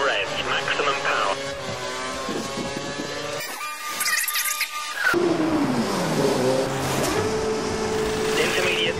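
A Formula 1 car engine in a racing video game, at the Japan race, screams at full revs with shifting pitch, briefly interrupted, then roars on, with a voice talking over it.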